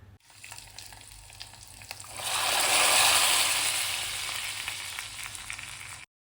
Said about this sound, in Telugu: పప్పుచారు మరిగిన తర్వాత ఇక్కడ పోపు అయితే వేసేస్తున్నాను